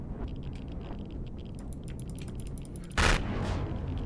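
An enemy weapon fires in the space survival game Empyrion Galactic Survival with the Reforged Eden mod, a single sharp, loud blast near the end over a steady rumbling game background.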